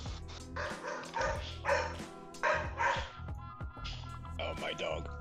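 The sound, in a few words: dog barking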